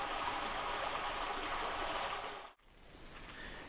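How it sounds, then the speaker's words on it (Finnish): A natural, unditched forest stream flows and burbles steadily, a continuous close rushing of water with a brief dip partway through before the flow resumes. "äsken oltiin siellä luonnontilaisen puron varrella Lohiluomassa ja katsottiin kuinka se vesi virtaa siellä"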